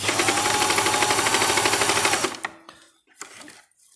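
A sewing machine stitches in a rapid, even mechanical rattle after a thread tension adjustment, running steadily for about two seconds before stopping, followed by a few faint clicks and handling noises.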